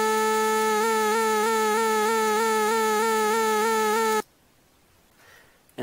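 A sustained synthetic Protracker tone with a steady ramp-down, sawtooth-shaped pitch wobble repeating evenly for about four seconds, then cutting off abruptly to near silence.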